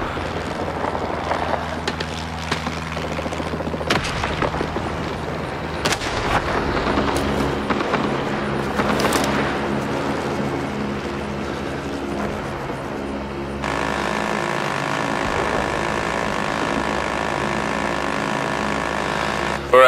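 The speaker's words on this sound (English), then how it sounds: "AC-47 inbound. Take cover. Fire support is coming in." Game combat in Rising Storm 2: Vietnam as an AC-47 gunship delivers fire support: steady droning engine beneath repeated heavy bursts of gunfire and blasts, continuous and loud, with a brighter shift in tone late on.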